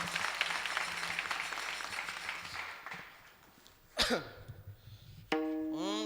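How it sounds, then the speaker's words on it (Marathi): Applause from a kirtan audience: a dense wash of clapping that fades out over about three seconds, followed by a few scattered sharp sounds and a brief burst of tonal music. "एकदा जोरदार टाळ्या झाल्या पाहिजे"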